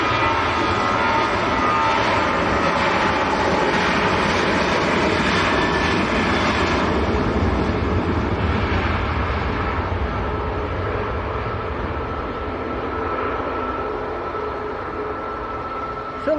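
A Ryanair jet bound for Madrid rolls down the runway for takeoff at Manchester Airport, a loud, steady engine roar that holds throughout with little change, with no voices over it.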